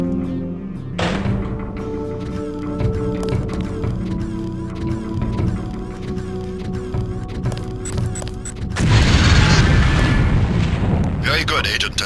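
A placed LAM mine drops to the floor and detonates in Deus Ex during demolitions training, a sudden loud broadband blast swelling over steady background music and ambience, with voices talking earlier.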